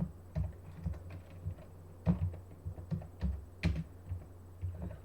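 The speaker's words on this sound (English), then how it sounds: "We'll type HTML text editor right here." Fingers tap out a search query on a computer keyboard, a steady run of close, crisp keystrokes with brief pauses between bursts.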